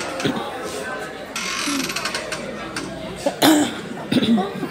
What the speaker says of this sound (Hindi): वो खांसी कर रहा है